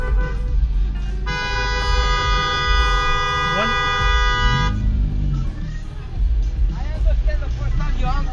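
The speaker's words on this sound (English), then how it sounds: "The camera and others behind him start honking." A car horn in road-rage traffic blares in one long sustained blast of several seconds over rumbling engine and road noise, with people talking before and after.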